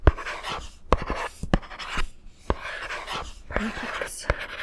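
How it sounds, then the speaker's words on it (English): Pen scratching notes during a close-up doctor's exam roleplay, soft intermittent scribbling strokes with small taps, close and quiet, with faint breathy whispering in between. "let me write that down"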